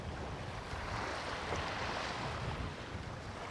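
Seaside wind rushes in a steady, broadband roar on the Giens peninsula in October, blustering against the microphone with a surf-like wash and no voices.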